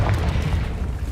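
A spell explosion in Hogwarts Legacy booms in a short, heavy low burst that rumbles for about a second, loud and close, with no speech.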